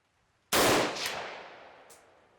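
A single loud rifle shot, a 7N6 5.45x39 round fired into ballistic gel outdoors, sharp onset then a long rolling echo that fades over two seconds.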